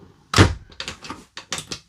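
A drawer in a Winnebago Era 70C Class B motorhome shuts with one solid close thunk, then a string of lighter sliding knocks and rattles as further drawers are pulled open and pushed closed nearby.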